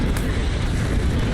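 A loud, sustained rumbling blast from an airstrike in the video game Apex Legends fills the moment with dense, continuous roar and no clear break.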